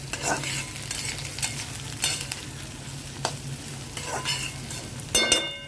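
Onions and green chillies frying in a pan for chicken fry: a steady close sizzle with periodic stirring scrapes and clacks, fairly loud and continuous.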